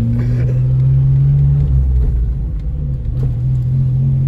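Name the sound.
Geo Metro car engine rumbling while driving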